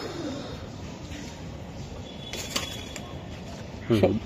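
A club racing pigeon gives a short, close cooing call near the end, heard faintly over steady background noise after quieter rustles and clicks.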